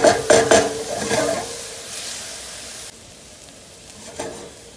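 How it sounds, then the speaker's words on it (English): Garlic and onion hit olive oil in a pan, with a few quick clinks of a utensil at first, then a steady close sizzle that softens partway through and keeps going gently. "Generous amount of olive oil in the pan. garlic and onion in. We're going to want to sweat this with no color."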